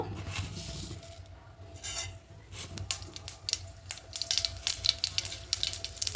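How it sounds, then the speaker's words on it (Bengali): Black mustard seeds spit and sizzle in hot mustard oil in a kadai, a soft steady frying hiss with scattered small pops and faint clinks of utensils, fairly quiet and close, no talk. "এবার তেলের মধ্যে দেব ফোড়নে প্রথমে দেব কালো সর্ষে দেব"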